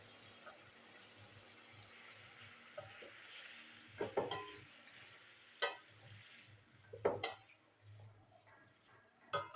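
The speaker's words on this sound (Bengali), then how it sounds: "বন্ধুরা, এবার দিয়ে দেবো গরম জল" Hot water goes into a pan of simmering gravy for bottle gourd kofta curry, a soft steady hiss and bubbling with a few sharp clinks of a utensil against the pot, fairly quiet with no talking.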